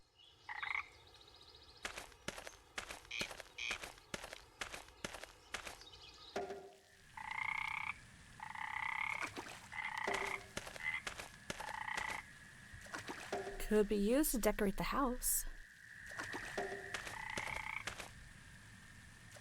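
Frogs croak by a pond in the video game Memoranda, a run of short repeated calls followed by longer rising croaks in steady rhythm, close and clear, with a brief burst of water noise partway through and no talking.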